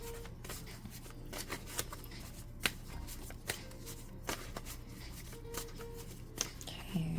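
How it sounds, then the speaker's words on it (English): Cards being shuffled close up, a steady series of crisp riffling snaps over a low background hum, with no talking. "I'm going to shuffle those for you here on camera"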